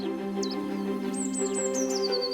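Small countryside birds chirp and sing from a hedgerow, with repeated high whistled phrases and short tweets over a steady low hum, moderately close and continuous.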